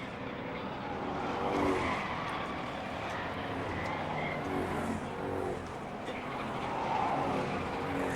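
Street stock race cars at Mesa Marin Raceway, with a continuous roar of engines from a distance that swells and fades as the cars circle the oval track.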